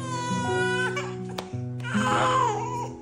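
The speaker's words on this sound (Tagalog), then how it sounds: "Pag kasi boy umiiyak ganyan." A baby boy cries loudly and close by in continuous wailing bursts with whimpering breaks, heard alone at home with no adult speech.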